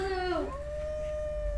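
A dog summoned by an amiibo in the Breath of the Wild video game lets out a single clear howl that slides downward, then settles into a long steady tone, heard alone against a low background hum.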